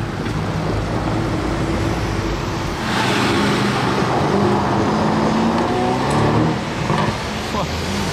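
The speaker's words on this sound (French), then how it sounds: "Il est pressé, il accélère dans la descente carrément." A car accelerates downhill on a city street, its engine note climbing and rising in pitch over several seconds amid steady traffic and street ambience, fairly close and loud.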